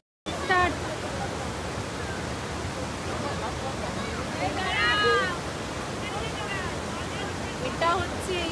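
A river flowing in North Bengal hill country, a loud continuous rush of water filling the scene, with faint bird calls and brief background voices.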